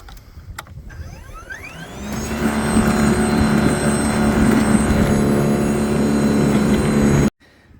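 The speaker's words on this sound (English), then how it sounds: "You can kind of dial up and down how fast you want the auger to spin." An Ego battery-powered single-stage snowblower spins up its auger, its electric whine rising over about a second into a loud steady hum that runs for several seconds, then cuts off abruptly.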